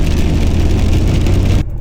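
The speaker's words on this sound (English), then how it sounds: "if this rain keeps up" Rain falls steadily in Alaska as a loud, dense hiss that holds evenly before dropping off abruptly at the end.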